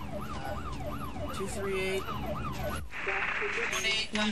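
Wailing ambulance siren rising and falling in a rapid repeating cycle, then switching to a different tone, with a voice speaking briefly over it.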